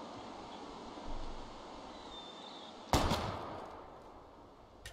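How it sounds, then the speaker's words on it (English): A single sharp gunshot, fired at bottles in the video game Life Is Strange, cracks out midway over a quiet ambient background and then fades with a short rumbling tail. "We're gonna shoot all these bottles without wasting a single bullet."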